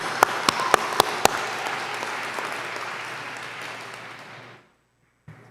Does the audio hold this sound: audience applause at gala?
yes